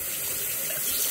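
Water running from a tap into a sink beside a touch-free soap dispenser, a steady close splashing flow that carries on evenly for about a second with no talk.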